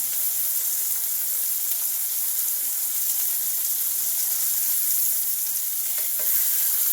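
Veal saltimbocca frying in a pan, a dense, steady sizzle holding evenly throughout, close and fairly loud, with no voices.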